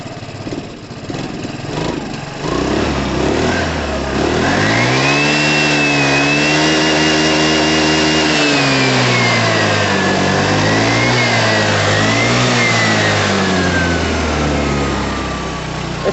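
Close and loud, a Piaggio Fly 125 scooter engine runs steadily, then revs up and holds at a higher pitch before easing back down with wavering throttle.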